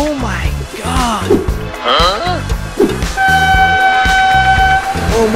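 Choo-Choo Charles video game train rumbling past with rhythmic clacking and a loud sustained horn blast, while excited voices shout over it.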